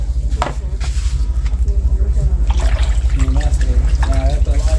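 Peppers are rinsed under running water in a kitchen, with a continuous splashing trickle and louder gushes as they are handled, and a voice talking over it throughout.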